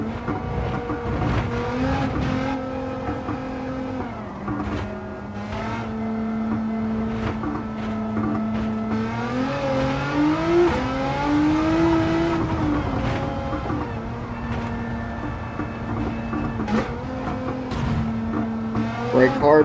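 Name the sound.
race car driving in Gran Turismo 7 video game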